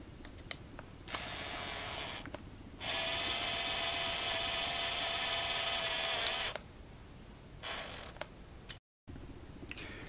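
A screw being driven by hand into a wooden ball while making a shaman drum, with bursts of ratcheting, clicking and scraping that come in short runs and then one longer steady stretch, close and fairly loud.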